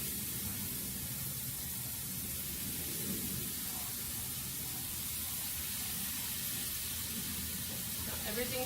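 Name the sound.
pineapple slices with butter and brown sugar sizzling on grill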